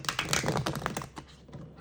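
A Villains tarot card deck being shuffled by hand, a quick burst of close, crisp riffling clicks that fades out.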